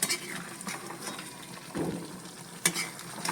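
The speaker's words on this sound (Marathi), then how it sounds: "आता छान असं व्यवस्थित मिक्स करून घेणार आहोत" Veg Manchurian is stirred and mixed in a pan, giving soft scraping and clinking strokes over a quiet, low sizzle, with a sharper knock near the end.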